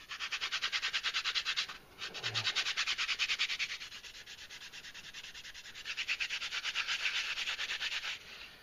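Sandpaper held in the hand rubs back and forth across a curved wood surface in long, rhythmic strokes, a close, dry rasp. A short pause comes partway through.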